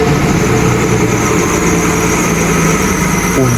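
A Mercedes SL600 V12 engine runs steadily at idle, loud and close, with a constant dense rumble and no talking over it.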